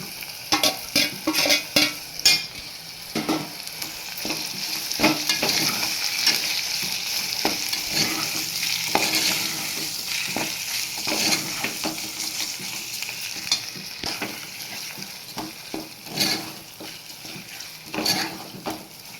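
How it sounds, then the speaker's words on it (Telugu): Boiled small prawns sizzle and fry in a pan with cooked ginger-garlic masala for prawn curry, a steady close hiss broken by repeated scraping stirs and light clinks of a utensil against the pan, with no voices. "మగ్గిన తర్వాత మనం ఇందాక ఉడకబెట్టుకున్న రొయ్యలు అనేది వేసుకోవాలి"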